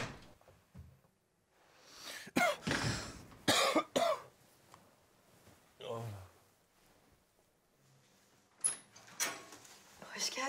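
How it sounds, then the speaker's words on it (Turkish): Coughing in a Turkish television drama scene, several harsh separate bursts spread across the stretch, mixed with household knocks and a door, alongside people talking. "Bu ne öksürük böyle oğlum?"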